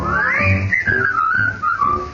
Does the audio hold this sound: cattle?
no